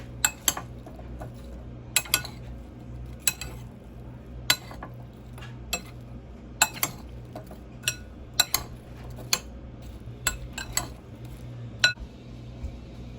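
Chopped apples, strawberries and blueberries being stirred together in a bowl for a fruit salad, with a low soft rustle of fruit under regular sharp clinks of a utensil against the bowl.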